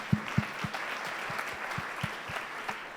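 Light, scattered clapping from an audience at a Columbus Metropolitan Club event on the performing arts, individual claps distinct and faint, a thin round rather than a full ovation.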